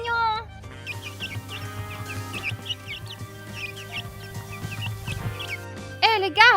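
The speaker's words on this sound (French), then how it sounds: "Des poussins, trop mignons!" Cute chicks peep in a high, repeated chorus of short chirps scattered across the scene over a steady low hum and background sounds, growing louder and denser near the end.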